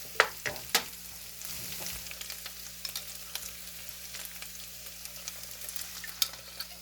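Egg and bacon being mixed in a frying pan, sizzling softly throughout with scattered scraping and stirring clicks from a utensil, close and quiet, no voices.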